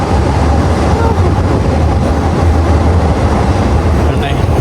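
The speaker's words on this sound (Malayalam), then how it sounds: "ഒൻപത് ഇരുപത്തഞ്ചിന് നമ്മുടെ ട്രെയിൻ ഇവിടെ സ്റ്റാർട്ടായിട്ടുണ്ട്" A passenger train runs through northern Thailand toward Nong Khai, heard from inside as a loud, steady low rumble and rattle of the carriage throughout, with faint voices in the background.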